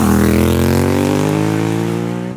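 A Suzuki SV650's V-twin engine revs hard nearby, one loud rising pull that climbs steadily in pitch over a couple of seconds and eases slightly at the end.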